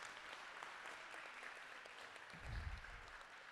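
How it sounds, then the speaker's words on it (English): Applause for volunteers, coaches and families at a student aerial drone qualifier, a faint, distant spread of clapping across a large room, with a brief low thump partway through. "Please give them all a round of applause and thank them when you get a chance."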